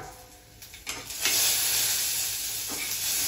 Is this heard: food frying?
yes